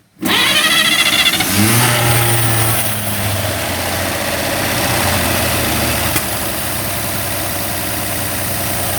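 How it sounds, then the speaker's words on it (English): A 1953 Chevy pickup engine cranks and catches with a sharp start, revs briefly, then settles into a steady, loud idle close by; no distinct backfire pop stands out, and no one talks. "First time I ever heard it backfire. And it backfired. But it's running."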